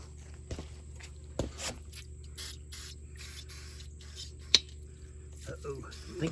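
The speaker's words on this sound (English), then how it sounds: "I think the brake clean is empty." Aerosol brake cleaner sprays in short bursts while front brakes are serviced on a 1971 Chevy C10 pickup, a few brief hisses close by amid faint footsteps and shop shuffling, with the can sputtering as it runs empty.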